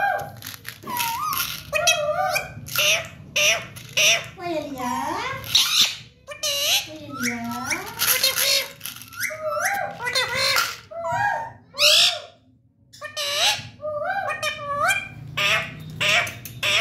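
A talking parrot chatters and squawks close by in a run of speech-like warbles and rising and falling whistled calls, with brief breaks between phrases.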